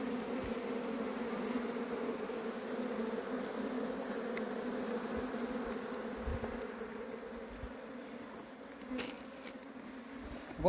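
Honeybees (Apis) from a captured swarm drone steadily in a hive box, a continuous low close hum with occasional faint knocks and no speech.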